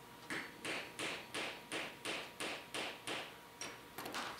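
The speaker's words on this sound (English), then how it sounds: "Nut drivers are very handy for need to pound something in that's a little bit large and flat." About a dozen evenly spaced, crisp taps of a nut driver pounding a flat part into place on a silkscreen jig, each one close and distinct in a quiet room.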